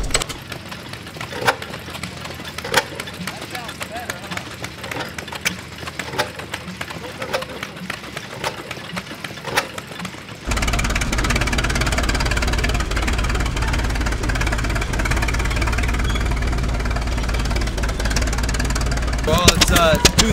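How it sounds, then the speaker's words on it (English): An antique 8-horsepower throttle-governed gasoline engine at an antique gas engine and tractor show. People talk over faint background noise at first, then the engine's steady, loud running fills the second half without a break. "8 horsepower, standard gas engine, runs on gasoline. It's what they call a throttle governed engine"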